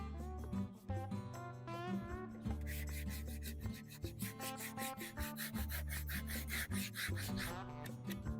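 A hand saw rasps steadily through wooden trim in quick, even back-and-forth strokes, close and continuous, with no voices.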